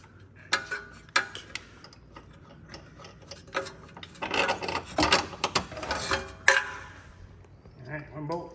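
A ratcheting box-end wrench loosens a bolt on the transmission of a 1986-era Porsche Boxster 986, giving rapid bursts of close mechanical clicks and ticks with short pauses between, and some metallic clatter.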